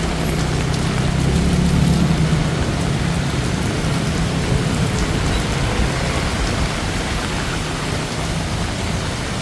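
Steady monsoon rain pours onto a Bangkok street on Sukhumvit, a dense continuous hiss of drops hitting pavement with a low rumble underneath, loud and unbroken throughout.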